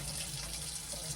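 A kitchen tap runs warm water in a steady, faint, continuous hiss and splash during bread making, with no voices.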